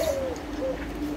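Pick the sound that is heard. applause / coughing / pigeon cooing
pigeon cooing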